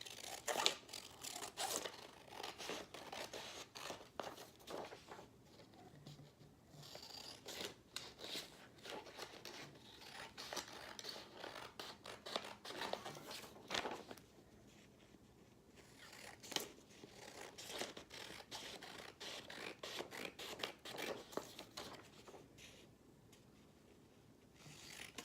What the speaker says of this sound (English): I'm going to go ahead and just cut out the picture.